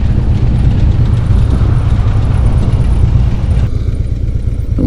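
A Harley motorcycle with a sidecar, carrying a German Shepherd named Duke, rumbling along at riding speed, with a loud, steady engine drone and road and wind noise throughout.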